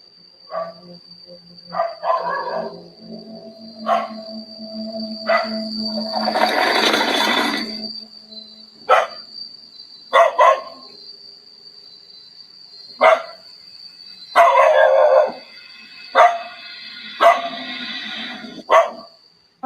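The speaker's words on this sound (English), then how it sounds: "The dog aggressively growls and barks at something Yama can't see." A neighborhood dog barks loudly and close by in sharp, separate bursts spread across the stretch, with a low rumble in places and a steady high tone running underneath.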